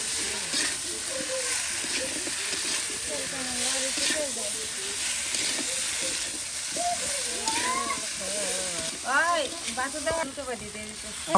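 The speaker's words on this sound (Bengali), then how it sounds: "এই দেখুন সব কিছু একসাথে মশলার সাথে কিন্তু ভেজে নেওয়া হচ্ছে" Spices and vegetables sizzle together in a pan in a Bangladeshi village kitchen. A loud, steady frying hiss runs throughout, with bird calls above it and faint voices.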